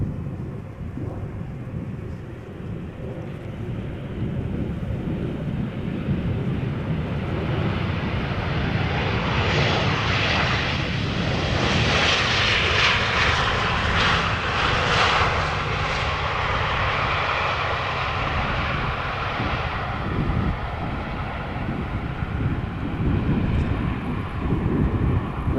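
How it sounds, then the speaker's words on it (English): A Transavia Boeing 737 arriving from Palma de Mallorca at Amsterdam Schiphol, a steady loud jet engine roar that swells to a peak midway and stays heavy throughout, with gusty wind rumble underneath. "Boeing 737 from Transavia arriving from Palma de Mallorca"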